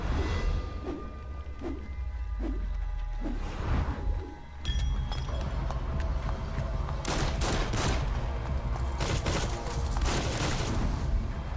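Gunfire in Metal Gear Solid V: The Phantom Pain, where a silenced pistol is in use: a few evenly spaced muffled pops come first, then a dense, busy stretch of sharp shots and impacts.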